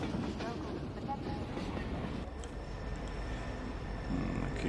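Steady low rumbling of a train in Half-Life 2, a continuous rail-car drone with faint clatter that holds even and loud throughout.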